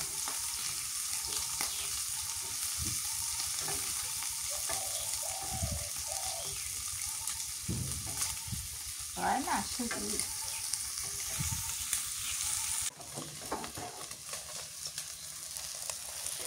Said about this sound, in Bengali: ডিম ভাজা হয়ে গেছে, নামে নিলাম।